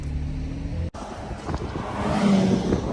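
Cars passing on a road during Monterey Car Week, including a black Ferrari LaFerrari Aperta and a Porsche GT3 RS, giving a steady loud engine drone that swells toward the end, with a brief dropout near the start.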